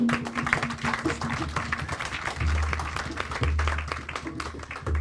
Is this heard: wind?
no